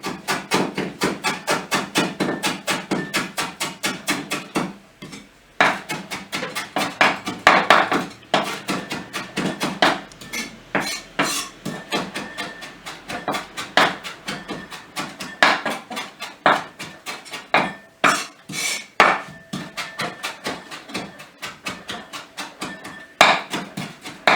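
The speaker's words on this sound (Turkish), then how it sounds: "Ve dereotlarımızı olabildiğince ince bir şekilde keseceğiz arkadaşlar" A knife chops fresh dill finely on a wooden cutting board, fast, steady, loud close-up taps with a few brief pauses and no talking.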